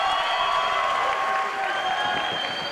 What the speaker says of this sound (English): The crowd comes alive.